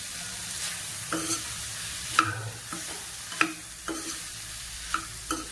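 Prawns with masala and coconut sauté in a pan under a steady low sizzle, punctuated by regular scrapes and taps as a spatula stirs them, close and with no talking.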